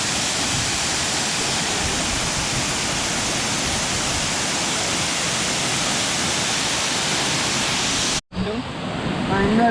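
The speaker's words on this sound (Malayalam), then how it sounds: "ആ വെള്ളം ഇങ്ങനെ പാറലടിക്കുന്നതിൻ്റെ" Water rushing and splashing over rocks on Amaradu hill, a loud steady broadband roar close by that cuts off abruptly near the end.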